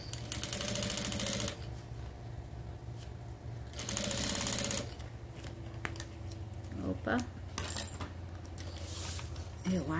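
A sewing machine stitches bias binding onto a zipper in quick rattling bursts, loud running stretches alternating with pauses, over a steady motor hum, with small clicks and handling noises between runs.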